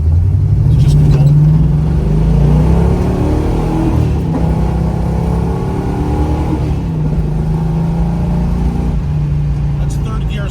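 A 1979 Pontiac Trans Am cruises in third gear at about 60 mph, its engine a steady low rumble with road noise close inside the car, while someone talks over it.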